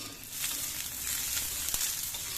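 Okra pieces frying in hot oil, a steady close sizzle and crackle with small pops and faint stirring, no voices.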